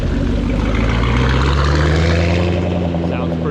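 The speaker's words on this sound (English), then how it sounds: "Oh, here comes a Mustang" A Ford Mustang GT500's engine roars loud and close at a car meet, a deep, steady rumbling drone with rising tones as it drives past.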